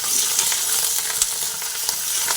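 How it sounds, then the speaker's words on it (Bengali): Grated ginger fries in hot oil with a loud, steady sizzle and crackle, broken by a few sharp pops and light scraping of stirring. "আদাটা তেলের মধ্যে দিয়ে অল্প করে ভেজে নিলাম"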